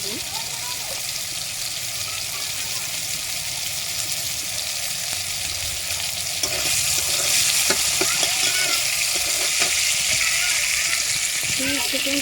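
Chopped tomatoes with salt fry in a hot pan, a steady close sizzle that grows louder and brighter halfway through, with occasional stirring scrapes and a voice talking faintly in the background.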